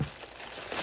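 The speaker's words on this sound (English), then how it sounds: "I'm just gonna rip it apart" Crinkly tearing of a fabric package being ripped open by hand, a short close rustling crunch lasting under a second with no talking.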